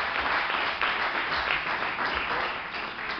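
A church congregation at a prayer service applauds loudly and steadily, a dense wash of clapping that continues unbroken throughout with no voices standing out.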